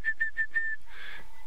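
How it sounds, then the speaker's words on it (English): An orange-breasted bushshrike gives a clear series of four short whistled notes, the last drawn out, followed by a softer breathy rustle, heard fairly close in quiet morning bush. "which is an orange-breasted bushrike"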